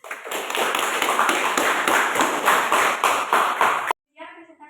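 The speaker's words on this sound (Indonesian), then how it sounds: "kita beri dulu aplaus dulu untuk kelompok 1" A classroom of students applauds a presenting group, a dense burst of many hands clapping close by for about four seconds before it stops abruptly and a voice starts speaking.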